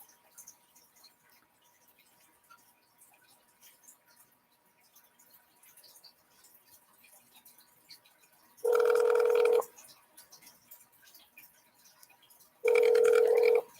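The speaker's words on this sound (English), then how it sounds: "I hope y'all could hear that the ring." A telephone ring tone heard during an outgoing phone call, two loud steady tonal bursts about four seconds apart, each lasting roughly a second, over a near-silent background.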